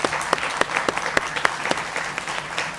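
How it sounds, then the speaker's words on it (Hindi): Loud audience applause for the country's women during an interview with Bollywood actress Kajol, a dense, steady patter of many hands with no voices over it. "इस देश की मातृशक्ति के लिए जोरदार तालियां भाई"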